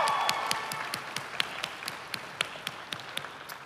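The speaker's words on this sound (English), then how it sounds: "Let's give them a round of applause." At a Florida Highway Patrol graduation, a fairly faint, scattered round of applause from an audience honours graduating recruits, individual claps standing out as it gradually tapers off.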